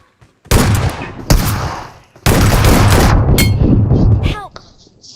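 Loud, close bursts of automatic gunfire from a shooting video game in a 2v2 mode, rattling in sustained volleys with brief gaps and a metallic clang.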